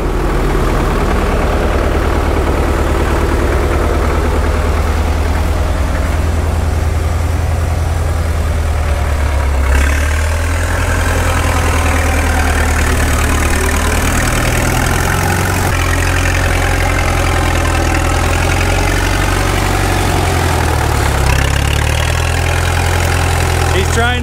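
A Caterpillar 212 road grader's engine runs steadily after its first start in two years, a loud, continuous low idle with a knocking rumble close by and a few slight shifts in tone, with some talk in the background.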